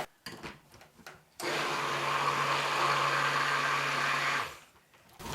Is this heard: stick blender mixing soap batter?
yes